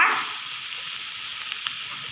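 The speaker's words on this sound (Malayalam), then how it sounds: "വെളിച്ചെണ്ണ ചേർത്ത് നമ്മളിവിടെ കടുക് വറ്റൽമുളക് ഉള്ളി കരിവേപ്പില" Mustard seeds, dried red chillies, shallots and curry leaves frying in coconut oil: a bright, steady hiss of hot oil with a few faint pops, heard up close for a couple of seconds without speech.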